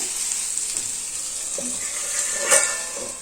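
Fish sizzles steadily on a tawa pan, a continuous bright frying hiss with a brief louder crackle midway and faint stirring clinks beneath.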